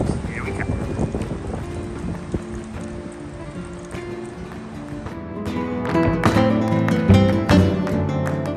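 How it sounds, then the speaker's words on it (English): Wind blowing outdoors on a sunny, blue-sky day among gardens and statues, a steady broadband rush buffeting the microphone throughout, with louder clattering noise building in the second half. "It's a bit windy."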